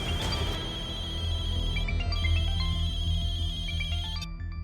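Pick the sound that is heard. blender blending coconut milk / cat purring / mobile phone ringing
mobile phone ringing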